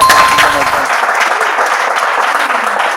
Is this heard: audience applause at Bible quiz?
yes